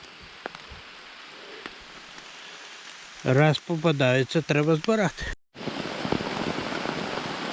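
Warm, heavy rain falls steadily through a forest in a dense, close hiss, with someone speaking briefly over it partway through.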